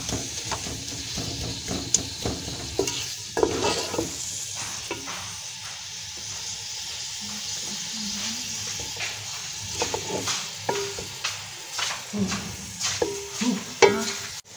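Minced meat with ginger and garlic hits translucent frying onions and potatoes in a pan, sizzling up close while a spoon stirs and scrapes in repeated bursts.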